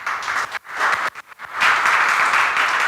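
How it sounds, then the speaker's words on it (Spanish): A church congregation breaks into applause during a sermon, loud clapping that dips briefly twice then swells into a sustained, fuller round. "Dale un fuerte aplauso al Señor."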